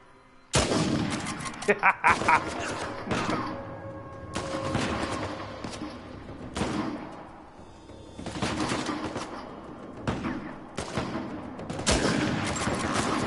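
Gunfire in the video game Uncharted 4, with repeated loud, close shots and bursts at irregular intervals, some sustained rattling and echoing booms, and a voice talking faintly in places.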